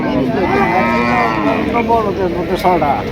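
A six-toothed native bullock of about three and a half maunds lows at a busy cattle market, its long drawn-out calls close by amid constant crowd noise and people talking.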